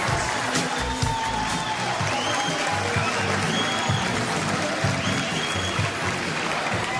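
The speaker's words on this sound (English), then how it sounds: "And let's listen to the crowd." A large crowd applauds and cheers steadily throughout, a broad roar of clapping with a few whistles rising above it.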